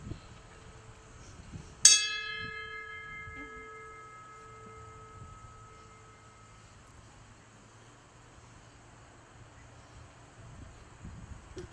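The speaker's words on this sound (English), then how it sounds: "we sound the bell three times" A fire service bell rings at a fire department funeral, a single sharp ringing strike with a long fading tone over distant traffic hum, the rest of the clip quiet.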